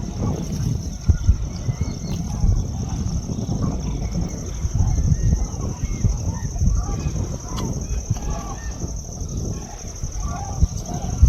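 A large flock of migratory birds at the Thol lake sanctuary in Mehsana, Gujarat, keeps up a dense, continuous honking and calling, with a steady hiss in the background.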